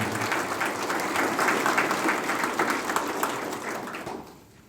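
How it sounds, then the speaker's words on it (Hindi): Warm applause fills a hall at a marriage preparation class at a social development centre in Ranchi, many hands clapping steadily before the sound thins and fades out near the end. "जोरदार तालियों से उनका धन्यवाद करें।"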